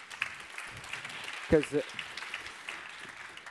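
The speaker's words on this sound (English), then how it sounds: "Well, please give a round of applause for that." Audience applause at a conference panel session, steady clapping under a brief spoken word from the stage.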